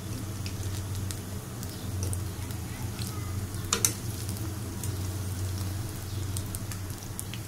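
Egg chop coated in gram-flour batter frying in hot oil, a steady close sizzle with scattered crackles throughout and one brief louder pop near the middle.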